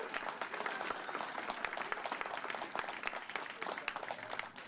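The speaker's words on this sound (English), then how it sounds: "Give a round of applause to our very own Fritz Coleman." An audience at a youth center grand opening applauds for a local TV weathercaster, a fairly quiet, distant wash of steady clapping with no voices over it.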